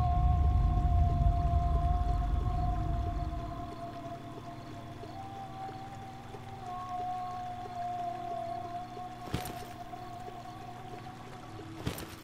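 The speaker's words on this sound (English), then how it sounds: "make sure that the whale goes down to where your car is pointing" A titan whale in the video game Titan Chaser calls out in long, steady tonal moans over a rumbling ambient bed, with a couple of sharp clicks near the end and no talk.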